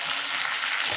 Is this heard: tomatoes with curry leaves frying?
yes